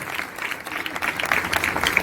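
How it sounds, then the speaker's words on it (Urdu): Congregation at a Urdu-language church sermon clapping loudly, a brief burst of crowd applause with irregular sharp claps that grows slightly toward the end, heard without speech. "آئیے چاروں عجائب کے لیے زوردار تالیاں بجائیں"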